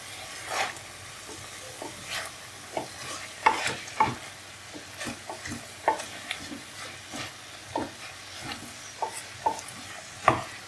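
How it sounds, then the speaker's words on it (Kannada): Fenugreek leaves fry in a pan while being stirred, giving a soft steady sizzle under repeated scraping strokes of a spoon at an uneven rhythm, close and fairly quiet. "ಮೆಂತ್ಯ ಸೊಪ್ಪು ಫ್ರೈ ಮಾಡ್ಕೊಳ್ಳಿ"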